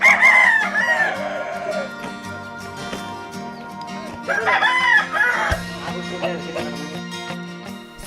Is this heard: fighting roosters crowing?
yes